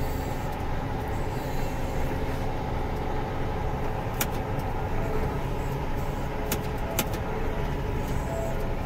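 A large tractor pulls a topsoil scraper with a steady, loud engine roar and a heavy mechanical rumble, broken by a few short, sharp squeaks or clanks.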